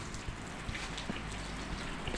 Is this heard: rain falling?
yes